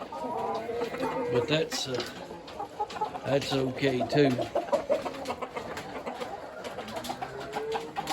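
Large roosters cluck and mutter in a busy coop, with overlapping bursts of calls close by while a person speaks briefly over them.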